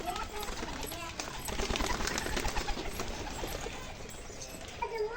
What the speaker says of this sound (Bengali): দাদার কিছু ম্যাট্রাস পায়রা রয়েছে